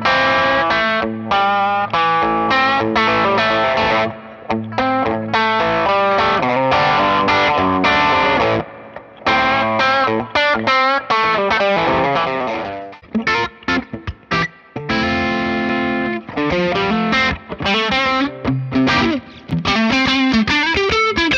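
An electric guitar plays through a Wampler Triumph Overdrive pedal into a Friedman Vintage-S amp. The loud, continuous overdriven tone carries a midrange-heavy riff of chords and single notes with brief gaps.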